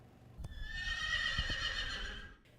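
A miniature horse in a barn gives one long, loud whinny, wavering and shrill, with a few soft hoof knocks underneath and no talking.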